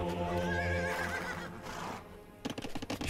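A horse in Age of Empires II gives a loud, clear whinny that wavers and falls away, followed by a quick clatter of hooves at the end.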